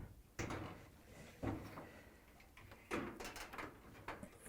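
Front panel of a Hotpoint dryer being set onto its bottom hinges, a few separate close metallic clunks and scraping knocks with quiet handling between them, no voices.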